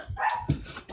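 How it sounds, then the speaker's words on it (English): Two dogs bark at another dog indoors, giving a few short, close barks and yips in quick succession within a single second. "They're both barking at another dog right now."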